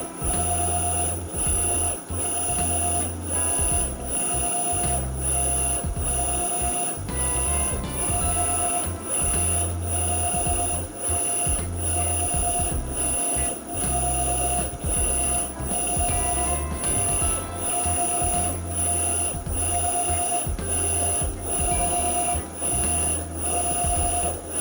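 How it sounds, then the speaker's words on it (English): A US Stock electric tapping machine threads a hole with tapping fluid applied, giving a steady, loud mechanical drone with a regular pulsing beat and a high whine throughout, and no voices over it. "I applied a touch of tap magic, lined up the tap, and hit the forward button to start the procedure."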